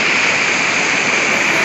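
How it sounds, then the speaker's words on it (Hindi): Umtirsing waterfall in West Karbi Anglong pours out a loud, steady roar of rushing water. The broadband wash is unbroken and sounds close and strong, with no voices over it. "पानी का भाव बहुत तेज है, तो हम पानी से नहीं जा सकता"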